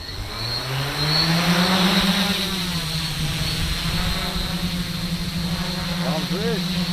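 Electric motors on a 3D-printed Inspire-style drone spin up with a rising whine that settles into a steady, loud hum, joined by a sharp tonal sweep near the end.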